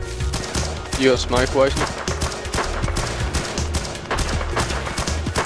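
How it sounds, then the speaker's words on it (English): Machine gun fire in a video game crackles in rapid bursts behind a dense, busy soundscape, with players talking over it. "we go to the hard white TK machine gun"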